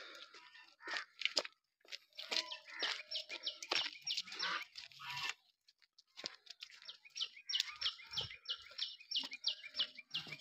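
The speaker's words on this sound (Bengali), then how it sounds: "নানান পাখির নানান রকম ডাক।" Various birds chirp and call in scattered, faint bursts along a morning path beside the Sundarbans forest, with soft crunching sounds mixed in and brief quiet gaps between calls.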